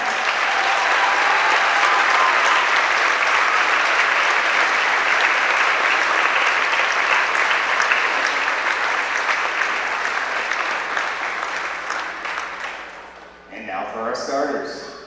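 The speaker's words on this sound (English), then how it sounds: "Please help us honor Dennis Dipper with a round of applause." Sustained applause from a gym crowd at a volleyball game as a person is honored, a thick, loud wash of clapping lasting over ten seconds before fading into an announcer's voice.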